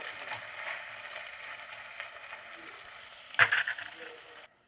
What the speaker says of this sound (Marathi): टाकून घेऊ आपण कट केलेला कांदा कांद्याला व्यवस्थित फ्राय करून घेऊ